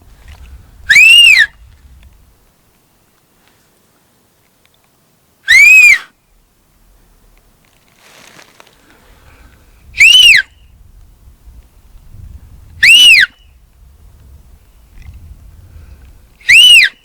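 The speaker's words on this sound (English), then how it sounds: "Wait, should I whistle?" Sharp, high whistles blown by a person outdoors during a mountain hunt, five short loud blasts spaced several seconds apart over near silence.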